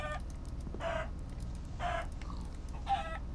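A chicken in a Minecraft modpack game clucks three separate times in short bursts, evenly spaced against a quiet, low background hum.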